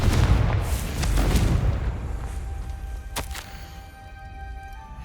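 The Confringo fire spell in the Hogwarts Legacy video game bursts with a heavy low boom that rumbles and fades over several seconds, followed by a couple of faint clanks.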